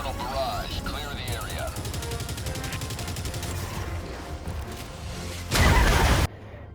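Orbital barrage strike in the video game Helldivers 2: rapid, steady rattling gunfire runs for several seconds, then a short, loud, heavy blast bursts through before cutting off.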